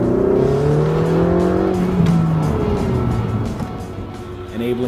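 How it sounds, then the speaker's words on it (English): A 2016 Ferrari 488 GTB accelerates hard with rising engine tones, then brakes with tire noise, heard up close with a voice talking over it. "accelerate like a bandit, and then brake really hard. And then accelerate, and then brake really hard."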